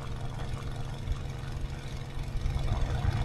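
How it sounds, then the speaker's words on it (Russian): Engine of a War Thunder game vehicle running steadily, a dense low rumbling drone that holds throughout and swells slightly toward the end, with no talk. "все что-то жалуются на звук двигателя"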